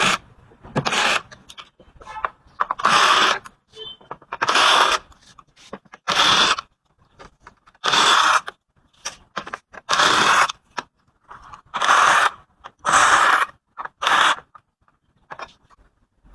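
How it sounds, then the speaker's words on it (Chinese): Screws being removed while disassembling an LCD TV, heard as a series of short, whirring bursts of a power screwdriver, about a second each, separated by pauses, close and fairly loud. "现在开始拆机， 拆螺丝。"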